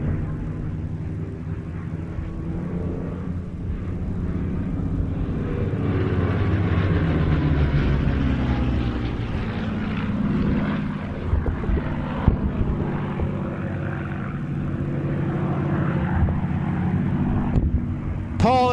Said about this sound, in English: Paul in the Spitfire still trying to shake the 109 off his tail.